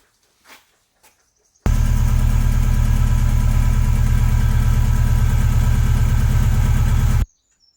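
A Subaru WRX STI's engine starts and idles steadily right after an oil change, run briefly to fill the new oil filter, a loud, close, even rumble lasting several seconds before it is switched off.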